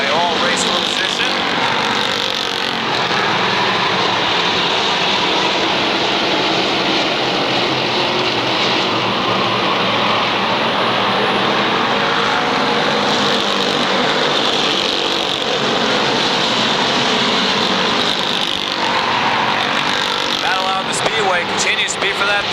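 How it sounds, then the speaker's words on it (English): Late model race cars roaring around the Waterford Speedbowl oval in a feature race, a loud continuous engine drone from the pack with a commentator talking over it throughout. "CJ Fry unable to get the car up to racing speed."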